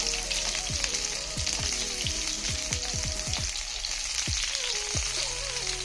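Dosa frying in hot oil: a loud, continuous sizzle, close and steady, scattered with sharp crackles and popping bursts throughout, and no voices.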